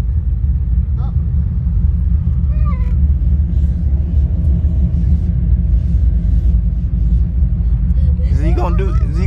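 An old Chevelle Malibu's engine rumbles steadily and loudly at close range, a deep continuous drone with people talking over it.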